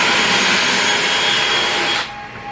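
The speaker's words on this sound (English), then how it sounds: "we're going to set up all the holes for the pocket screws." A power drill bores pocket screw holes in wood for an above-ground garden bed, a loud, steady whine that runs for about two seconds and then winds down abruptly.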